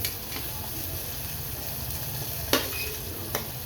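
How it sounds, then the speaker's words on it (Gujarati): Pieces of cauliflower are stirred in hot oil in a cooker for vegetable pulao, giving a steady soft sizzle with two brief clinks of a spoon scraping the pot near the end. "બધા જ ફ્લાવરના પીસ નાખી દેવાના છે અને 1 મિનિટ સુધી એને હલાવવાનું, મિક્સ કરવાનું"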